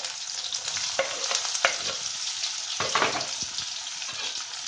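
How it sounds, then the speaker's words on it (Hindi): Chopped onion and a pinch of asafoetida sizzle and crackle in hot oil in a pan, a dense close frying hiss with occasional stirring scrapes and spits, steady throughout with no talking. "अब इसमें डालेंगे हींग थोड़ा सा, और जो प्याज हमने काट के रखा था उसको डाल देंगे।"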